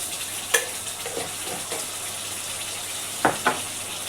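Chopped onion fries in a pan with a steady sizzle as garlic-ginger paste goes in, a few sharp spatters and stirring scrapes breaking through the continuous hiss.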